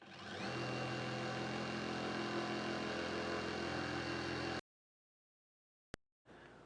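A Hyper Tough 12V brushless 3/8-inch impact wrench runs on second speed with a 6 amp-hour battery: a loud, steady whirring drone for several seconds, then it cuts off, followed by a brief click.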